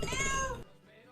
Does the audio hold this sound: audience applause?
no